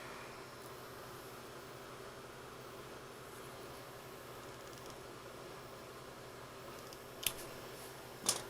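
An ebike horn button wire is cut, two sharp metallic snips near the end after several seconds of quiet low room noise.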